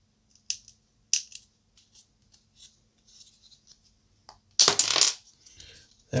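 Hobby knife trimming a plastic part from a TT Combat paint rack sprue, several small crisp clicks and snips spaced out, then a louder crunching cut near the end, in a quiet room.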